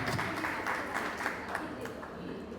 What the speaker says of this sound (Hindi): जोरदार तालियां बजाएंगे तो मिलता मौका